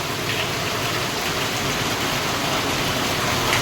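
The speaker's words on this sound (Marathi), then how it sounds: "कुठला भारी पाऊस पडतो." Heavy monsoon rain pours down in Mumbai, a dense, loud and unbroken hiss of drops striking surfaces that fills the whole scene without any pause.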